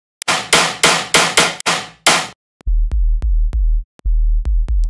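A tearout dubstep gun synth without G clip processing fires in loud, rapid bursts: a volley of bright noisy blasts, then a run of punchy, deep, booming hits in a steady rhythm, with no talking.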